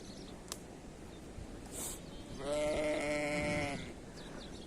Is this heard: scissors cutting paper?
no